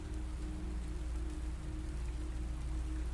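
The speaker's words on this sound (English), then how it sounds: "The rain falls on the cottage roof the same way it did 90 years ago." Steady rain drumming on a slate cottage roof, a dense, even patter that holds at a constant low level throughout with no voices or other sounds.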